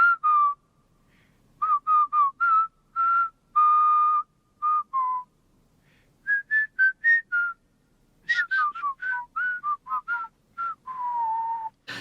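Whistling scene from the film The Great Escape: a clear whistled march tune in short, bright phrases with pauses between them, alone and close, with no talk.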